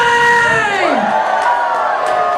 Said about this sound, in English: After three, your biggest cheer.